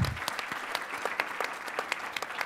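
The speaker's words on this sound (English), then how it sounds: "another round of applause for Brother Ali" Audience at a panel event claps for a speaker, a brief burst of steady, moderately loud applause from a seated crowd.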